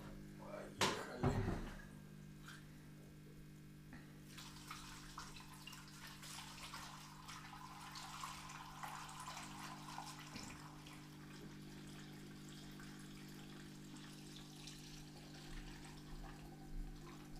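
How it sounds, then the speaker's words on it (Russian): Distillate for homemade cognac is poured into a container, a faint, steady trickling stream that runs quietly for most of the clip after a brief knock and a few soft sounds at the start. "Ну что, будем заливать дистиллят."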